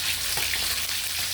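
Tilapia frying in a pan gives a steady close hiss of sizzling oil with faint crackles, a continuous bright texture and no talk.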